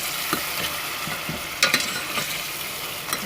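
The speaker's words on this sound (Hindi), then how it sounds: "अब टमाटर को भूनेंगे" Chopped tomatoes sautéing in a pan for a mustard greens dish, a continuous close sizzle with scraping stirs and a couple of sharper spatula knocks, no one talking.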